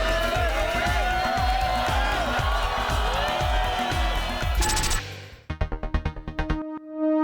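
A large crowd cheers and roars loudly for three-time surfing world champion Andy Irons at an ASP World Tour contest in Brazil, a dense continuous wall of voices and whoops, then cutting to a quieter stretch of rhythmic music and scattered sounds.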